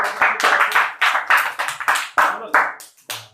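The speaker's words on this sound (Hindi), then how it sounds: "इसे भी ताली बजा के स्वागत करो" A classroom of students claps in welcome: a loose, uneven string of sharp handclap bursts, close and lively, with short gaps between rounds.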